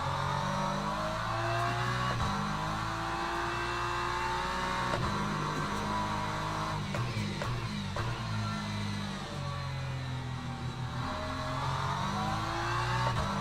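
A Ferrari race car engine in Le Mans Ultimate drones and revs continuously, its tone rising and shifting through gears as it runs close behind, with no talking.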